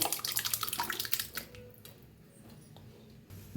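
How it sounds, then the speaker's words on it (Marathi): Hot water is poured into thick dal in a splashing, bubbling rush for about a second and a half, then fades to quiet with a few faint drips. "आता गरम पाणी या डाळीत ओतूया"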